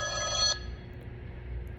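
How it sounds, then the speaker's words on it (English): A telephone rings for an incoming call, one short electronic ring burst lasting about half a second, then cutting off and leaving low background hum. "Looks like someone's calling me."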